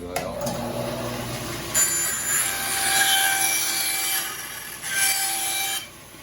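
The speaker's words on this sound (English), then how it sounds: "I'll just take it through the bandsaw and take it off" A bandsaw slices a wooden piece in half while building zipper bag storage boxes, with a high whining blade tone and a rasping cut that rises as the wood feeds through, then drops away near the end.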